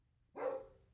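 A single faint, short dog bark sounds indoors at a distance, one brief yip-like burst against a quiet background.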